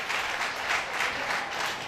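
A church congregation at a women's ministry gathering applauds steadily, a dense, even wash of many hands clapping at close range with no pauses.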